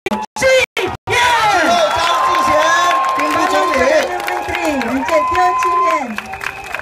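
A large crowd applauds and cheers for People's Action Party candidates at a Singapore rally, with sustained loud clapping and whoops under an amplified announcer's voice after a few brief bursts of sound.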